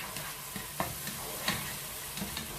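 A spoon scrapes and stirs tomatoes into onions and bell pepper sizzling in a paella pan, steady frying hiss with rhythmic scraping strokes close up, no talk.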